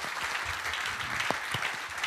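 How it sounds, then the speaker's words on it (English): An audience at a talk on HR claps steadily to welcome a speaker onto the stage, a dense sustained round of applause. "Big applause to you."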